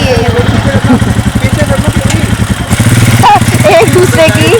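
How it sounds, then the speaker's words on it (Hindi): A motorbike with a light on it arrives at Sambhar Lake in the evening, its engine putting out a close, loud, pulsing low rumble, while people talk over it. "ये देखो, एक लाइट वेल वाली बाइक आ गई है।"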